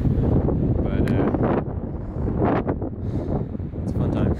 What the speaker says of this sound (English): It's a bit windy out here right now